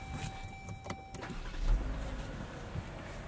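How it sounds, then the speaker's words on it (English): A 2020 Chrysler Pacifica minivan is switched on, with electronic chimes followed by a low thump and a rising, steady engine and fan hum inside the cabin. "Let's just throw the car on."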